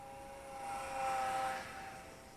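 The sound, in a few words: Eachine Mini P47 Razorback RC plane flying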